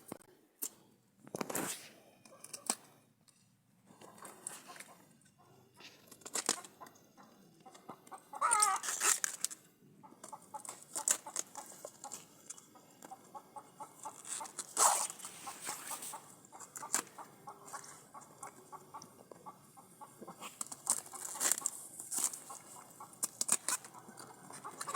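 Chickens in an African village yard, clucking and calling in scattered, intermittent bursts over about twenty-five seconds, fairly close, mixed with rustling and patter and no clear talk.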